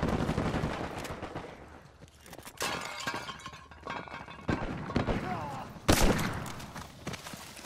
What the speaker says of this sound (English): Lay it down, suppressive fire!